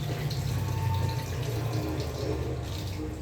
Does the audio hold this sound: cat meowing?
no